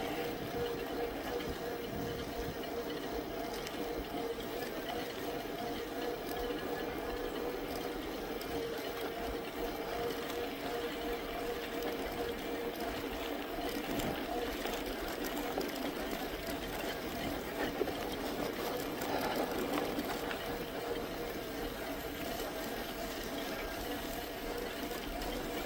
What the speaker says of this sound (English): Creek running right down the side of the road.